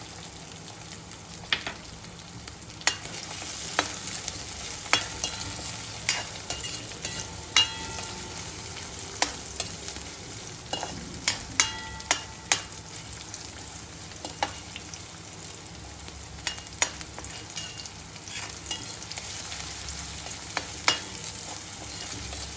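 Onions fry in a pan for vegetable masala Maggi with a continuous low sizzle, overlaid by frequent sharp spatula taps and scrapes against the pan, close and steady throughout.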